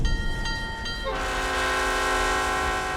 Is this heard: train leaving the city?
yes